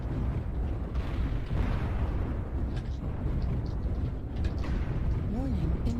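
Continuous rumbling missile barrages and explosions in the video game MechWarrior Online, a steady loud roar with scattered bursts, while a person talks over it.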